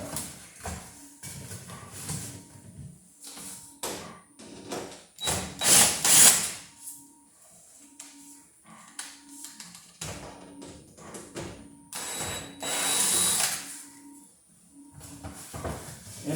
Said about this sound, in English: So you have to take the screws out of it,